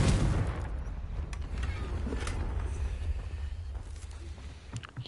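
A Confringo blasting spell bursts in Hogwarts Legacy, a loud, full-bodied explosion with a rumbling low end that rolls on for several seconds with scattered crackles.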